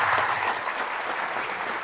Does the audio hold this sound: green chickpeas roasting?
no